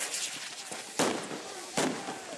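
Firecrackers go off as French riot police charge Gilets jaunes protesters at the Lucciana oil depot in Corsica: a small pop, then two sharp, loud bangs about a second apart, each trailing a short crackle over a murmuring outdoor background.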